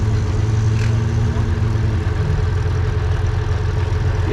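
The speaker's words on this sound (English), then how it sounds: "Vehicles pull in." Engines of military vehicles pulling in during a Gulf War battle demonstration at the Canadian tank museum in Oshawa, Ontario, a steady low rumble and idle throughout, close and loud, with no talk.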